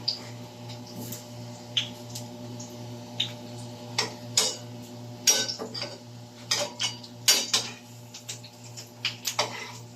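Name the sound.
flipping frying food in a pan with a utensil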